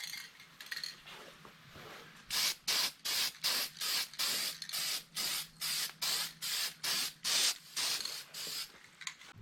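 An aerosol can of Rust-Oleum high heat paint sprays on a Bronco differential cover in a steady string of about fifteen short, sharp hissing bursts after a softer rattle, close and evenly spaced.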